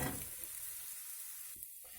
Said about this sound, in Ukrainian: Смажу на середньому вогні